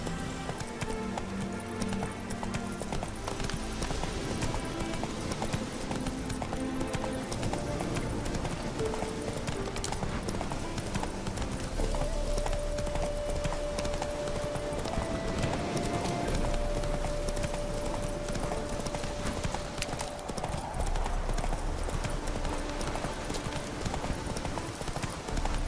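A horse gallops in The Witcher 3: Wild Hunt, with rhythmic hoofbeat clip-clop running steadily throughout over game music and ambience, and occasional brief snorts.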